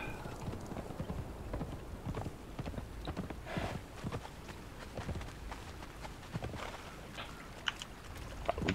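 Horse hooves clip-clop steadily while riding toward a beach in Conan Exiles, Isle of Siptah, a dense run of close, even footfalls with faint ambient water and background noise.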